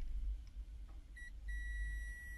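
A faulty car part beeps when its button is released, giving a short high electronic tone followed by a longer sustained beep, thin and fairly quiet over a low background hum.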